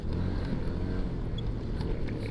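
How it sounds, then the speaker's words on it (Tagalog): A boat motor drones loud and steady at close range, a dense low rumble with no pauses or talking. "Nagwigil yung motor."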